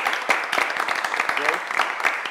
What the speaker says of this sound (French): J'aimerais qu'on applaudisse pour notre invité.